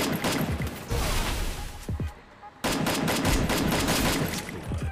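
Gunfire in a mobile shooting game ending with a headshot kill: dense, loud automatic bursts with a short quiet gap, then another rapid volley.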